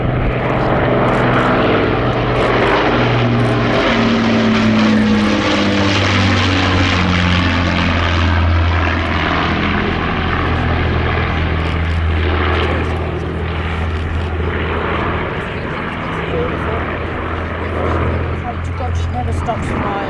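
Avro Lancaster bomber of the Battle of Britain Memorial Flight passing overhead at a vintage airshow, its propeller engines droning loud and steady throughout, with a crowd audible underneath.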